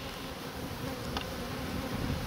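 Honeybees hum around queen cells in a hive, a dense, continuous buzz close by with no voices.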